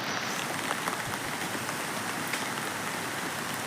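Steady rain falls over a cashew orchard in the early morning, a dense even hiss with scattered drops striking surfaces up close, constant in loudness throughout with no voices.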